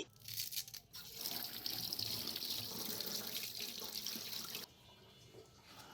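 Tap water runs steadily over spring onions and coriander leaves being washed in a sink, a close hissing splash that drops in level near the end; no one speaks.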